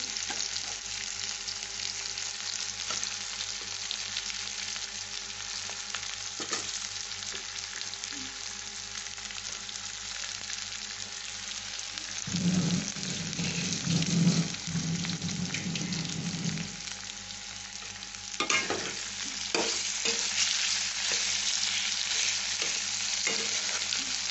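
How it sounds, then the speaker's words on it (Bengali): Small boiled potato pieces fry in a pan with a steady sizzling hiss, louder bursts of stirring and scraping midway through, and no speech. "এবার আমি আলুগুলো দিয়ে দেবো ছোটো ছোটো করে সিদ্ধ করা আলু এই যে সেটা দিয়ে দিচ্ছি"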